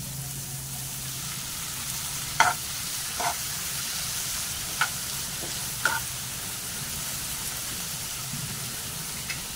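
Frozen peas go into sautéed onion and tomato in a pan, a steady soft frying sizzle with a few sharp clinks of a spoon stirring, fairly quiet and with no talking.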